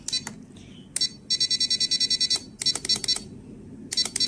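An RC6GS V3 radio transmitter sounds its alarm in bursts of sharp, high electronic beeps, a rapid run of pulses in the middle, close and clear.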